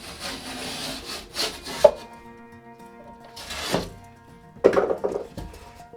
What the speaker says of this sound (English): And that's our plasterboard cut.